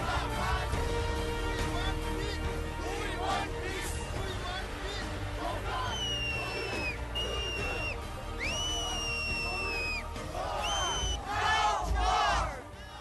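A large crowd of anti-war protesters demonstrates in New York City in 2003, a dense roar of chanting and shouting voices with shrill whistles cutting through repeatedly and swells of cheering near the end.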